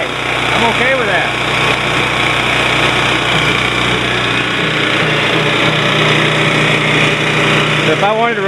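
Portable generator engine running at a loud, steady, buzzing drone close by, continuous for several seconds before a brief change near the end, with some voice picked up beneath the noise.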